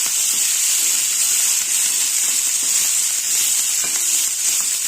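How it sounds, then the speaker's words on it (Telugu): Drumstick leaves frying in a pan on low flame give a steady, dense sizzle and hiss that runs unbroken and fairly loud throughout, with no voices. "మునగాకుని లో ఫ్లేమ్లో వేయించుకోవాలి"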